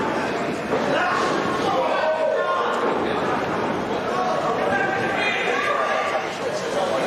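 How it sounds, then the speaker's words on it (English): In a New York street fight at a pro wrestling show, a wrestler is slammed to the mat with a double underhook facebuster, giving a heavy thud amid constant crowd noise and commentators talking. "That double underhook face buster, a.k.a. the pedigree."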